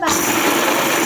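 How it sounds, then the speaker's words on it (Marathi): A mixer grinder grinds peanuts for til gul in a home kitchen, giving a loud, steady, high-pitched whirring roar that starts abruptly and keeps up at constant intensity. "आता आपण शेंगदाणे मिक्सरला लावून घेऊया."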